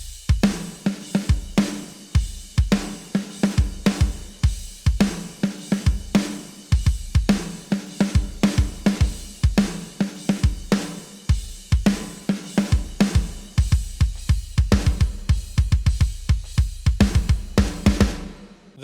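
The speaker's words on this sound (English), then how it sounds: "finally we go to the drums that sound like this" Drum track for a beat, with punchy kick and snare hits in a steady driving rock pattern, loud and up front without any voices.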